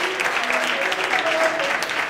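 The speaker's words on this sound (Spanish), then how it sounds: "No hacía falta aplaudir" University economics students clapping at the close of a course, a full, sustained round of applause filling the room, with a faint voice speaking underneath.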